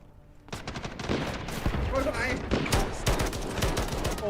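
Rapid bursts of gunfire crackle in quick succession in the video game Delta Force, continuous and dense, with a voice talking underneath throughout.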